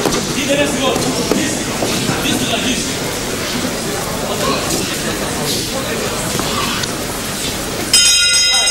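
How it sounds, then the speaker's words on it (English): A boxing bell rings to end the first round of a fight between two boxers. The ring comes near the end of a noisy arena stretch thick with crowd and commentary talk, a bright metallic ding breaking through. "the bell ends round 1"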